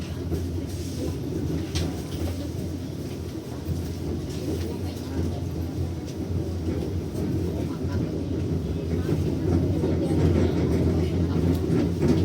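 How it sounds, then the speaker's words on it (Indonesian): Blambangan Express passenger train leaving Banyuwangi station in Indonesia, a low steady rumble of engine and rolling wagons that builds slightly, with faint voices and station noise underneath. "kereta api Belambangan Express berangkat dari stasiun Banyuwangi"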